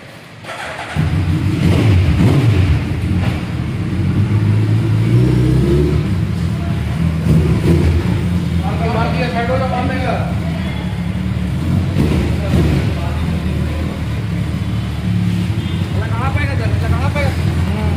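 A new 2021 Suzuki Hayabusa motorcycle idles and revs steadily at close range, its engine a continuous loud rumble throughout while a crowd chatters and talks over it.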